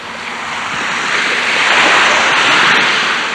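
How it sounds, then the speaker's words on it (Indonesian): A radio drama sound effect of ocean waves breaking on the beach at Tritip: a loud, continuous wash of surf that swells to a peak and slowly recedes, with no voices. "biarkanlah ombak di pantai Tritip ini menghantamku"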